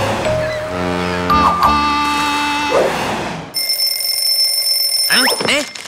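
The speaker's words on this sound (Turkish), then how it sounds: "Kim alarm kurdu?" A cartoon alarm clock goes off in the Turkish animated series Kral Şakir: tonal, musical sounds first, then a bright, shrill metallic ringing that holds steady near the end.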